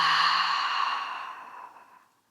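A single long exhale through an open mouth at the close of a yoga session, a close breathy sigh that starts strong and fades steadily to silence over about two seconds.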